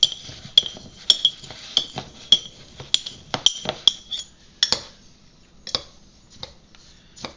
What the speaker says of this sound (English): probably the easiest way, just like the Fiddle Diddles, mix it all up prior